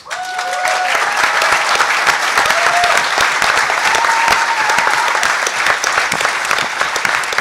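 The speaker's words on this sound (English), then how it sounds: "For those of you who don't know why they're applauding" A hacker conference crowd applauds loudly and continuously, a thick roar of clapping with a few whistles riding on top, steady for the whole stretch.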